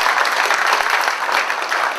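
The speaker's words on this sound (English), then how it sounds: "let's have a big clap for all the candidates" A room full of people clapping steadily at a student association presidential debate, dense and sustained for the whole two seconds, with no voices rising above it.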